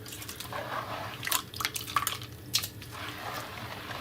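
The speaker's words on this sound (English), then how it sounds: "squeeze the shredded coconut flakes like this to make sure that you get the most out of" Shredded coconut flakes squeezed by hand to press out coconut milk, giving soft wet squishes and a few scattered drips, close and quiet with no talking.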